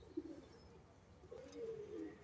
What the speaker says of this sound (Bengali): দুইটাই কিন্তু অনেক সুন্দর কবুতর এই জোড়াটা